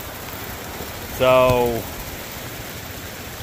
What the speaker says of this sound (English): We are getting rained on in the middle of practice.